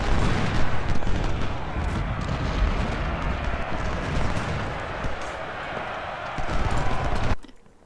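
Continuous musket fire from Civil War skirmisher lines in Ultimate General: Civil War, a dense rolling crackle of overlapping shots with rumbling booms that carries on steadily before cutting off abruptly.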